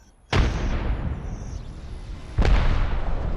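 Two Arcstar grenade blasts in a first-person shooter game, each a sharp close boom with a rumbling tail, set about two seconds apart.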